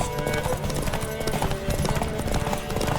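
A horse gallops flat out in The Witcher 3 during Ciri's race: a fast, steady drumming of hooves, loud and close, keeping up the whole way with only faint voices around it.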